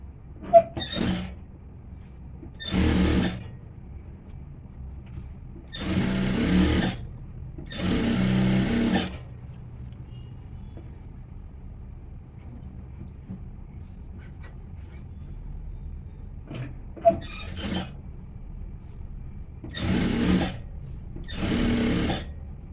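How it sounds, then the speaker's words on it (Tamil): A domestic sewing machine stitches a seam on a princess cut blouse in short bursts of loud whirring, separated by quiet pauses, with a brief click between runs. "இப்படி திருப்பிட்டு ஓரமாக தையல் போட்டுருவோம்."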